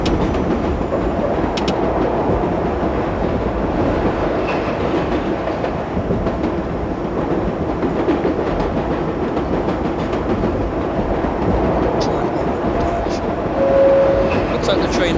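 A New York Line 7 subway train in World of Subways runs with a steady, loud rumble and rail clatter that lasts throughout, a brief high squeal near the end, and occasional speech over it.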